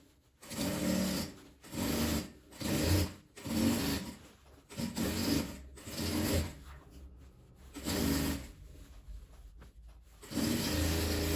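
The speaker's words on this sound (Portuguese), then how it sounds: "agora eu vou virar e vou rebater essa minha costura" Sewing machine topstitching a seam on an apron made from old denim jeans, running in repeated short whirring bursts with brief pauses between them, close and fairly loud, with fabric rubbing and handling sounds.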